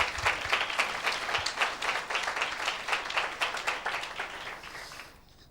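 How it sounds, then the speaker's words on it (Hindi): A church congregation applauds loudly during a Hindi sermon, dense steady clapping filling the space for about five seconds before fading out at the end, with no talk over it. "तो जोरदार ताली दे सकते हैं।"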